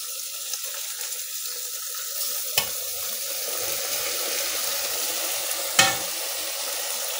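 Eggplant and tomatoes with spices cooking over a low flame in a pan for a red lentil dish, giving a soft, steady sizzle with two sharp clinks from a utensil, fairly quiet and close, no voices.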